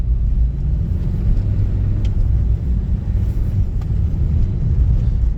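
A Renault Fluence with an automatic gearbox drives downhill on a snowy mountain road, heard from inside as a steady, loud, low engine and road rumble that continues throughout without talk.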